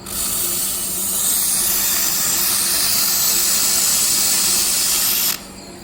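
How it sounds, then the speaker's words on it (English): Laser welder running at 1500 watts on a 4 mm thick aluminum piece, giving a loud, steady broadband hiss that holds for about five seconds and then cuts off abruptly, with no talk. "Let's set 1500 watts. Weld 4 millimeters thick aluminum piece."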